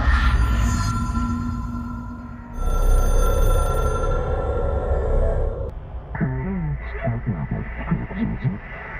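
An object-of-power telephone in the game Control rings with steady, tonal electronic bursts over a low droning hum, then gives way to a garbled, radio-like voice in the later seconds.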